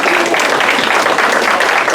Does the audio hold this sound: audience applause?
yes